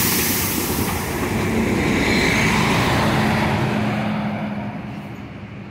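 A Caio Millennium BRT city bus from Aviação Santa Brígida passes at a São Paulo bus station, a broad loud rushing rumble that builds and then fades away as it moves off, with no talk.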